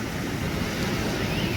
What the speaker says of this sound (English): So yeah, here at the beach still.